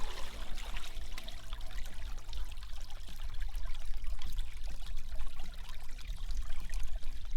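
Water runs steadily through a gold sluice box, a continuous close pouring and trickling wash with small splashes throughout, no voices.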